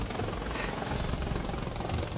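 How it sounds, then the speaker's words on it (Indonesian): A helicopter arrives at a school, its rotor and engine producing a loud, dense, continuous chopping roar close by, with no speech over it. "Naik helikopter ke sekolah."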